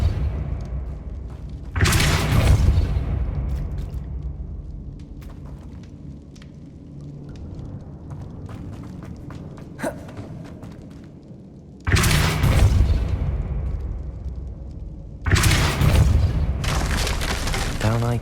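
Repeated Depulso spell casts in Hogwarts Legacy, three loud blasting bursts spaced through the clip, each a broad whooshing boom that lingers about a second over a steady rumbling game background.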